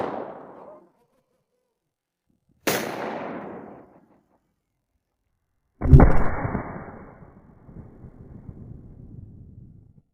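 Three loud, close gun blasts of a 12-gauge slug fired at a ballistic pad from about six meters, each sharp report trailing off, the last the heaviest with a long rumbling decay.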